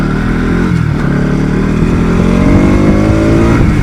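A Pulsar NS 200 motorcycle revs hard in first gear, its loud, close engine note climbing steadily and holding a dense, continuous roar with no voices.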